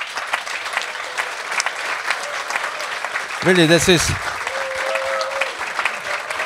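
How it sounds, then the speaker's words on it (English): An audience at a forum on security guarantees and peace breaks into sustained applause, a steady crackle of clapping throughout, with a voice cutting in briefly in the middle. "Please applaud her"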